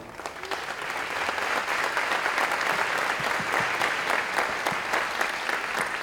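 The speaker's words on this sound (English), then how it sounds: "If you would please rise so we may applaud you." An audience claps for the architects at a dedication ceremony, a dense, steady wash of applause that swells within the first second and holds evenly, moderately loud in a large room.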